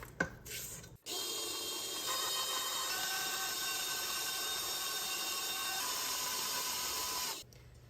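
An electric mixer creams butter cake batter for an orange-flavoured butter cake, kicking in after a brief clunk and holding a steady, loud mechanical whir for about six seconds before cutting off.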